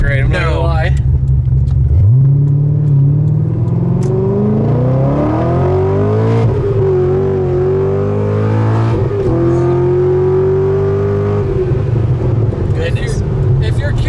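A Corvette Z06 engine revs hard while accelerating in first gear at partial throttle, a loud, close, rising engine note that climbs in pitch, briefly shifts, then holds before easing off, with a voice speaking faintly.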